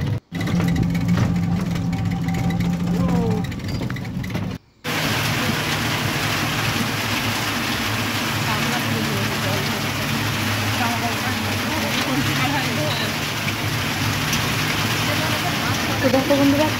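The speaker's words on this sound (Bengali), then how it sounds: "কী পরিমাণে বৃষ্টি শুরু হয়ে গেছে" Heavy rain pours outdoors as a dense, steady hiss of drops drumming on surfaces, broken by a brief gap near the start, with a voice talking at times over the downpour.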